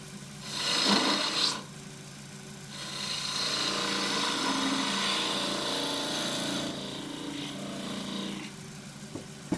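A wooden button foot turning on a lathe as its end is rounded over: a rough, rasping cut against the spinning wood, with an early louder burst and then a long steady scraping stretch, close up, with no talking.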